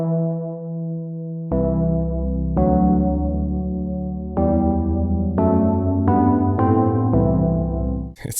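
The Aeon synth patch from the Orbital VST plugin plays sustained, bright chords with a deep bass layer, struck as a series of overlapping notes that swell and ring out, without any speech.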